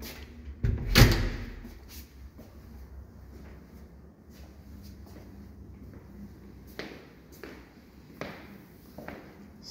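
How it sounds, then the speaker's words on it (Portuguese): A glass door between a service area and a kitchen in an apartment swings and shuts with one loud, close knock near the start, followed by faint footsteps and light handling sounds in a quiet room. "Separa a área de serviço da cozinha esta porta de vidro."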